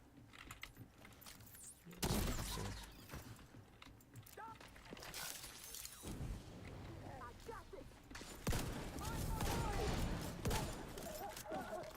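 Gunfire in the video game The Division 2, with a burst of shots and loud, dense bursts of firing and explosions over game ambience, some stretches quieter, lasting through the passage.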